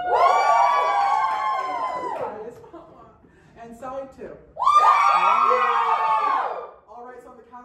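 A theater audience at a New York theater festival screams loudly on cue in two long sustained bursts, with a performer speaking briefly in the pause between them.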